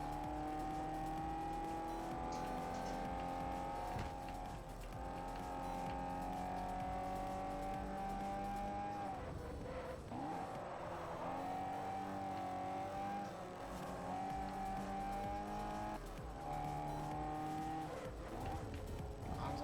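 Race cars in the Forza Motorsport 4 video game roar continuously, with engines revving and shifting pitch as they accelerate, plus brief tire noise mid-race, loud and close with no talk.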